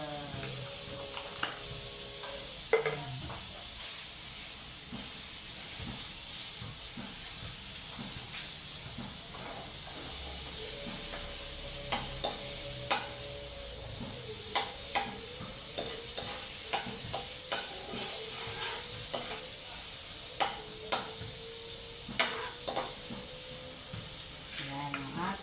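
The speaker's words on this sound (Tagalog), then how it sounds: "Lalagyan na natin yung ating butter." Butter sizzles and hisses steadily in a frying pan for seafood, with frequent scraping stirs and clinks of a utensil against the pan running throughout at a moderate, close level.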